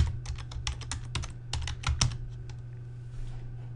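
Fast, close clicking of a computer keyboard as a search is typed, keystrokes coming in quick bursts and then thinning out, with no voices.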